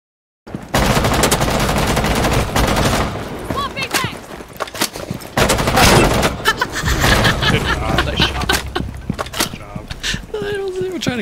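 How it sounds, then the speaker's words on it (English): Rapid bursts of video game gunfire shoot out a window, loud and close, with dense automatic volleys and sharp single cracks over several seconds, along with heavy booming impacts. "Kill anybody, I just shot the window."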